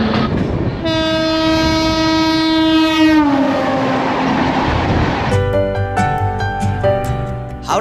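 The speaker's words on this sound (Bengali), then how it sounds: "এখানে এক ঘন্টা লেট করে তারপর ট্রেনটা ছাড়ল" A loud passenger train horn blares for about two seconds and drops in pitch as the train departs, then its rolling clatter and clicks continue, close and steady.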